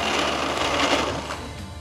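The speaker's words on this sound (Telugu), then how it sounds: "కొద్ది కొద్దిగా నీళ్లు యాడ్ చేస్తూ పిండిని ఇలా స్మూత్గా అయ్యేట్టు రుబ్బుకోవాలి" A mixer grinder grinds soaked rice into smooth idli batter with water added little by little, a steady loud whirring drone running continuously with no talk.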